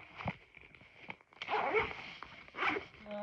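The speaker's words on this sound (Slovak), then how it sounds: "Zipsujeme." A zipper is pulled in a few short scratchy runs, close and fairly quiet, with brief rustling and handling noises between the strokes.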